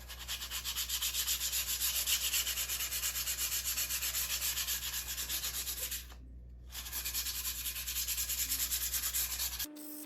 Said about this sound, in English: Just gonna give this a light sanding. This is 400 grit sandpaper.